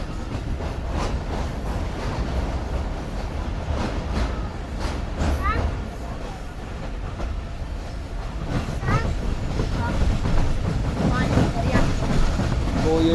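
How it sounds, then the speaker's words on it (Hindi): Rehman Baba Express running into Kotri on a summer journey, a steady rumble of the moving train with rhythmic clickety-clack of wheels on rail joints, continuous and fairly loud with a voice talking over it. "तो 3:15 बजे ट्रेन जो है हमारी वो एंटर हो चुकी है कोटरी शहर में"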